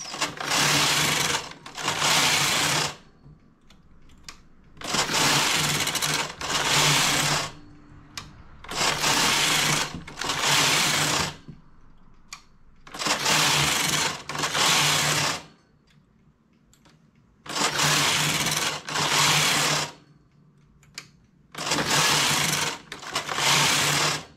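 A knitting machine carriage is pushed back and forth across the needle bed knitting a cardigan, each pass a loud mechanical whirring rasp lasting about two seconds, separated by short quiet gaps.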